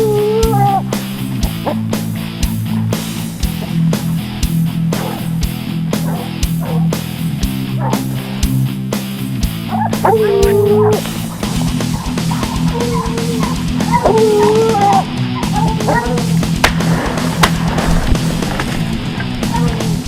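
Hunting dogs bay and bark in the bush during a bushpig hunt, with repeated howling cries at middle distance over rustling and clattering movement, and no talk.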